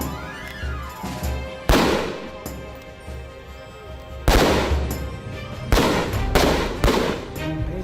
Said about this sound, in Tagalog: I-assemble ang baril at saka puputok sa gitna ng pressure at pagod.